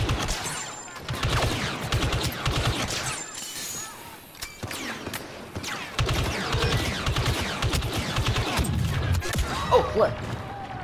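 Blaster fire aimed at Stormtroopers in a video game, dense rapid bursts of shots and impacts running almost throughout, with a brief lull around the four-second mark and a voice speaking over the action.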